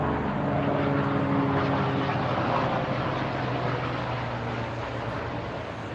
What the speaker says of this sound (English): waiting for the airplane to go by.